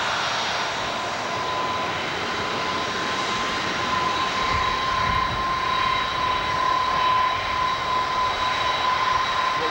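A Cargolux Boeing 747 cargo jet flies low overhead on approach to a runway at San Francisco International Airport, a loud, steady roaring engine drone with a persistent whine that swells slightly as it passes, with no talk.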